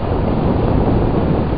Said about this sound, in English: it's getting a bit windy down here